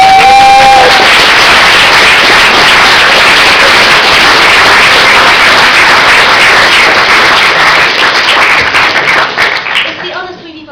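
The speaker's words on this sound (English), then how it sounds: "Round of applause," A debate audience gives a loud round of applause for Darcy, with dense, sustained clapping and a few cheers that fade away at the end.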